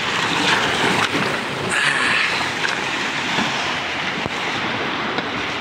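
Sea waves on the coast at Gwadar, Pakistan, a steady, full surf roar that washes on without pause and with no voices.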